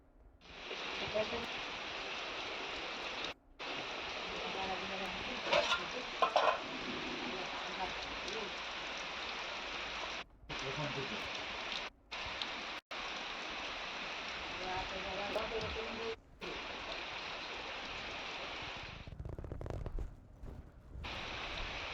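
Light drizzle falls steadily in Malenadu, a soft continuous hiss that runs almost unbroken, with a few brief dropouts and faint voices in the background.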